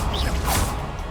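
Confringo fire spell cast in the Hogwarts Legacy video game, a loud dense magical whoosh and burst of energy lasting about a second, with no talking.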